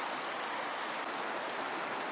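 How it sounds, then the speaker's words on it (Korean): A mountain stream on the Markha Valley trek in Ladakh rushes steadily nearby, a dense, even wash of flowing water with no voices. "이렇게 시원한 물소리를 들으니 잠시나마 더위가 식는 기분이었습니다"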